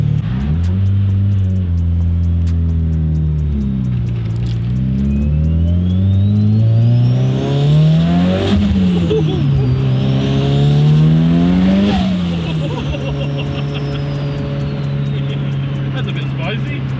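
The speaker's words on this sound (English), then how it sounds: "That's a nice SR20. Should we take it for a little spin?" A car with an SR20 engine driving hard, its loud close engine climbing and dropping in pitch through repeated accelerations and gear changes, with a whining rise over the roar and voices under it.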